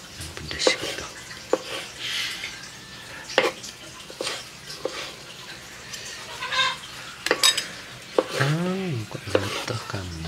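Banana stem is stir-fried in a pan with a spatula scraping and clattering over a steady sizzle, while chickens cluck in the background and a voice speaks briefly.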